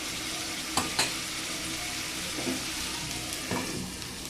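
Hilsa fish curry with ridge gourd sizzles softly in a pan while being stirred, a low steady frying hiss broken by a few sharp scrapes and clinks of the spatula against the pan.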